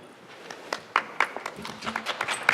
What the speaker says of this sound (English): You don't need to clap for the moderators.